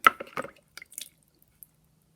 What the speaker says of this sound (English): So I'm just going to rinse it out a little bit, put some salt water on it.